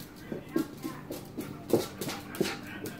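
A dog whimpers in soft, repeated short whines and snuffles at close range, fairly quiet and irregular.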